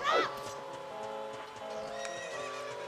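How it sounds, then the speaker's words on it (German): Horse in the video game Ocarina of Time gives a sharp whinny at the start, then hooves clip-clop at a galloping rhythm over steady game music. "Oh, da ist ein Pferd."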